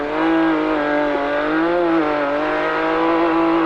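A Dakar rally car runs flat out, its engine holding a loud, steady high-pitched drone with slight wavers in pitch throughout, heard from inside the car with no speech.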